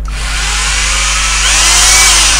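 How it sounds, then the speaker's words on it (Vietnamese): Bosch 220V three-function electric hammer drill running steadily in close-up, a continuous loud whirring motor whine with a constant low hum, no pauses and no voices. "hai chức năng khoan thường và khoan bê tông"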